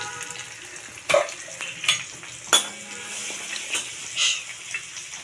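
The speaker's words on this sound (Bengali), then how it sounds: "দুটো শুকনো লঙ্কা একটু ফ্যাটিয়ে দেবো, তা নাহলে ফেটে যাবে কড়াইতে।" Grated ginger and two dried red chillies fry in oil in a wok, a low steady sizzle broken by a few sharp clinks and scrapes of a utensil against the pan.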